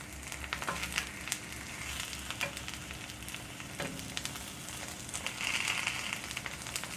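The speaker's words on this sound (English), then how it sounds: "I had this sprayed with butter spray. You can see it sizzling in there." Eggs sizzling in a skillet greased with butter spray, a close continuous frying hiss with scattered crackles and pops, growing slightly louder near the end.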